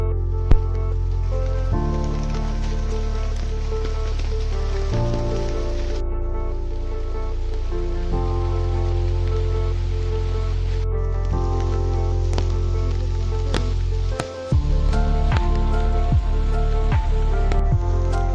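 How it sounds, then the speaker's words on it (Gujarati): Heavy rain pours down near a waterfall in a steady, dense hiss with scattered drips, a low droning hum running beneath it the whole time. "વરસાદ એકદમ વધી ગયો"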